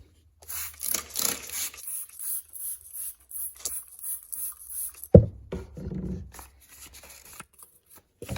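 Wet sanding a foggy, yellowed car headlight lens with 2000-grit sandpaper gives a rhythmic series of soft rubbing strokes, close up, then a sharp knock and quieter, uneven scrubbing.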